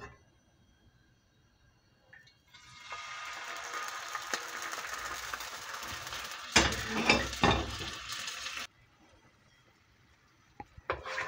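Teriyaki salmon marinade sizzling and caramelizing in a frying pan, a steady hiss that starts abruptly, swells with louder spitting bursts, then cuts off near the end.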